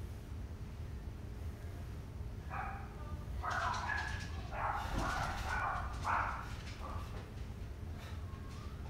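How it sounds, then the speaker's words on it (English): Dogs barking in the background of a home, heard as a string of faint, distant yips and barks over a steady low rumble of room noise. "those are the dogs, so my apologies for all the background noise"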